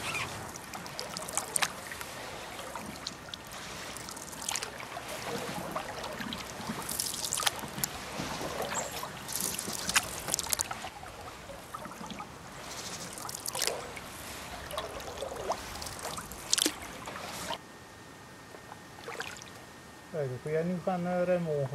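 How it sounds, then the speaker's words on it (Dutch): Canoe paddle strokes splash and water drips from the paddles on a river in Sweden, with soft rhythmic swishes and a quiet outdoor background; a voice talks over part of it. "Slechts het geluid van de peddelslagen, de boot en het druppelende water van de peddels blijft over."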